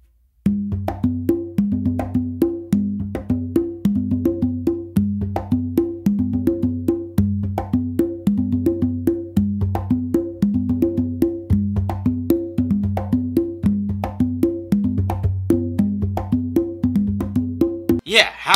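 Conga drums play a steady Bingba groove, with dense, evenly repeating hand strikes mixing deep open tones and sharp slaps, loud and close throughout with no one talking.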